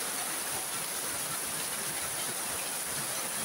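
Heavy rain falling at a village house, a dense, even roar of broadband hiss that fills the whole stretch without pause, steady and close, with no voices.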